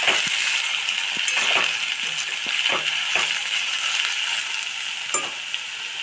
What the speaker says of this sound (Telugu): ఇంకొంచెం అయితే ఫ్రై కావాలి.